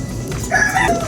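A gamefowl breeder hen, loud and close, giving a short rising squawk-like call lasting about half a second.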